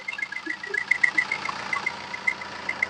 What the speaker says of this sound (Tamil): இது செவர்லெட் சைடில் டீசல் இன்ஜின்.